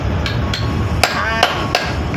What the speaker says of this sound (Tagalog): Yan, ganyan lang ang martilyo.